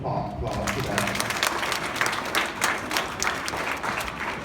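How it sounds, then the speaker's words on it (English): A classroom of elementary school children applauding together, a dense, steady clatter of many small hands clapping that fills the room for several seconds, close and fairly loud. "So I think you should all give yourselves a round of applause for that."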